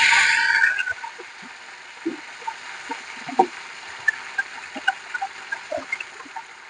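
Onions and mint frying in a pan for a green chilli chicken salan: a brief burst of loud sizzling at the start, then a quieter hiss with scattered clicks and taps of stirring.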